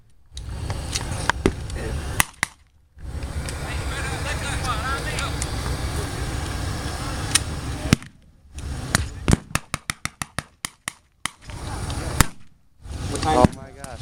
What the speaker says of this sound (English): the British are employing a portable mortar that would lob shells like a lightweight artillery